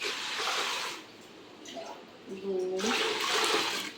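A rushing splash of water poured into a cooking pot for making kharodya, in two bursts, with a voice talking briefly in the quieter gap between them.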